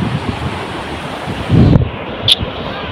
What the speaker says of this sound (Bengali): দেখতে পাচ্ছ ঢেউ আসছে,